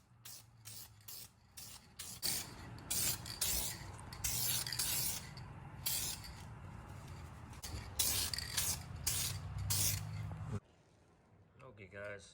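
Several coats of spray paint go onto the rear end of a car, with repeated bursts of hissing from the can alternating with rubbing and handling noises, close by under intermittent background sounds.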